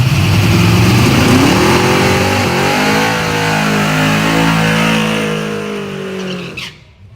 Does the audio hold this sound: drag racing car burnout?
yes